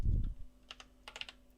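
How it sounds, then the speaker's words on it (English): Keys tap on a computer keyboard in short quiet clusters, a few isolated clicks followed by a quicker burst, close and soft after a brief low thump at the start. "in the repository name, you want to type in your username first."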